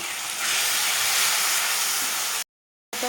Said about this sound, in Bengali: একটু একটু করে জল দিয়ে মশলাটা কষে নেব একটু বাটি দিয়ে একটু জল দিয়ে দিলাম